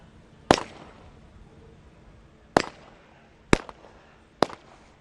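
A sniper rifle fires four sharp, loud cracks at targets during a SWAT challenge competition, spaced unevenly over several seconds with quiet pauses between, heard from some distance outdoors.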